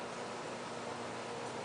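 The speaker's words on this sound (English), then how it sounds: "That's my air conditioner coming on." An air conditioner runs in a home model railroad room, giving a steady, even whoosh of blowing air with no change in level and no other sounds over it.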